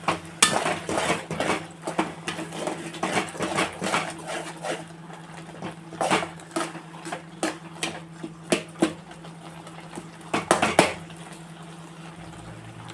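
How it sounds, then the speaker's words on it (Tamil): A spoon scrapes and knocks against a pan as tomato pickle is stirred while it cooks, with irregular clinks and taps over a low background hum. "இதை அப்பப்போ கலக்கி விட்டுக்கோங்க, இல்லைன்னா அடி பிடிச்சிடும்."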